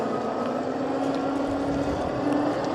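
A HiKNiGHT H2 Pro off-road ebike with a single 1,000 watt motor is ridden at about 16 mph, giving a steady motor hum and whine mixed with rushing wind and road noise, continuous and fairly loud.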